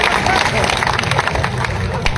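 Audience applause at a public speech: a dense, continuous wash of clapping and crowd noise that holds steady throughout, with a voice faintly mixed in.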